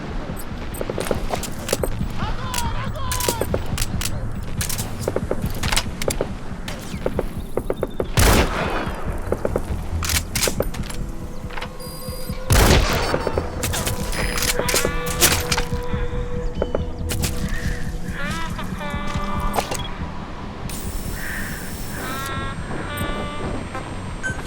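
Rapid bursts of gunfire crack and rattle through Metal Gear Solid V: The Phantom Pain during a virus outbreak at the base, dense overlapping shots and volleys, loud and near, with scattered footsteps and clatter between them.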